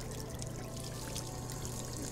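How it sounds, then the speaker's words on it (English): Water pours steadily in Job Simulator VR, a continuous close-up gush without breaks for a couple of seconds, with no talking over it. "And then I gotta put some water."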